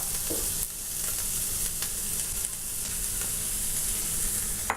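Onions in hot oil sizzle steadily with a bright, continuous crackle, broken only by a few soft clinks of a utensil. No voices are heard.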